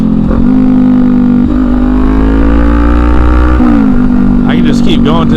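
A Kawasaki Ninja 400 two-cylinder motorcycle with a Hindle exhaust runs loud and close, its engine holding a steady buzzing drone through upshifts with a brief dip between gears, while a rider talks over it.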